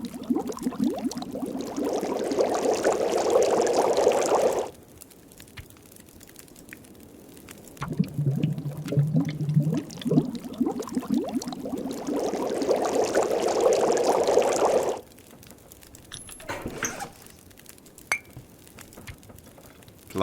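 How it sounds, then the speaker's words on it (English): Snow is melted and boiled in a pot in The Long Dark, giving two long rushing, bubbling stretches split by quieter watery gurgling and a short clatter near the end, with no voices. "So we'll very quickly melt and boil some snow"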